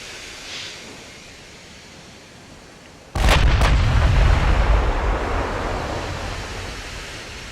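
Naval artillery fire from a battleship engagement in the Ultimate Admiral: Dreadnoughts video game: a sudden heavy boom after a quiet stretch, a second quick report right behind it, then a loud rumbling roar that slowly fades.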